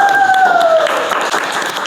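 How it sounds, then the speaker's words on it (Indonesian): A crowd applauds a student film crew honoured at a national film festival, steady dense clapping close by, with a short whistle-like tone over the start. "Kru, tepuk tangan."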